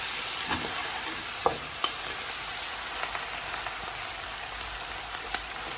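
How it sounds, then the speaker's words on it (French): Spices being stirred quickly in a hot pan for a goat and squash tajine, giving a steady close sizzle with scattered scrapes and light clicks of the spoon against the pan, no voices. "on va mélanger rapidement parce que sinon, les épices elles brûlent"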